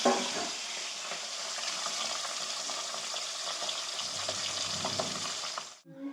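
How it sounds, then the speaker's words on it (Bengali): Pabda fish frying in mustard oil in a kadai, a loud, steady crackling sizzle up close that cuts off abruptly near the end. "পাবদা মাছটা ভাজা হয়ে গেছে"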